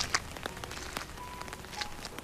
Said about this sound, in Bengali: বৃষ্টিটা একটু কমতেই ছাতা নিয়ে বেরিয়ে পড়ল কুশল।